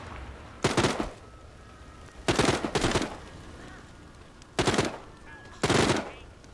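Bursts of automatic gunfire in the VR zombie game The Walking Dead: Saints and Sinners, four separate volleys of rapid shots spaced a second or two apart, fairly close and loud against a quiet background.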